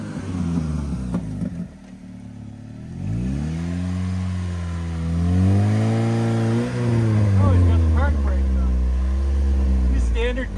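A Pontiac G6 engine, governor-limited around 6,500 RPM, revs hard during a burnout, its pitch climbing, wavering and climbing again in long sweeps. Voices talk over it.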